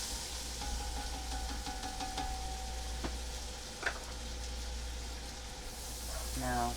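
Finely diced onion cooks in a pot for a creamy loaded potato soup, a soft steady sizzle with a low hum underneath, a couple of light clicks and a brief voice at the end.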